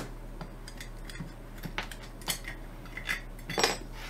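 Metal multi-tool working against a stuck nut on an old combination dial lock, producing small scattered clinks, scrapes and ticks, close and fairly quiet over a steady low hum.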